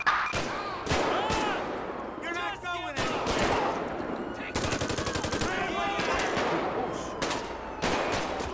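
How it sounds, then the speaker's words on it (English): Repeated bursts of automatic and single gunshots in GTA V with the LSPDFR police mod during a street gang shootout, loud and near, with short gaps and echoing reports across several seconds, radio-style chatter faintly mixed in. "Shots fired."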